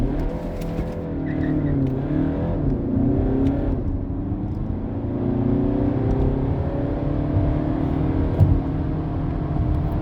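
A 2018 Seat Leon ST 2.0 TDI diesel estate accelerating hard from standstill on a wet road, engine note rising and falling through several gear changes in a sustained, close-up drone.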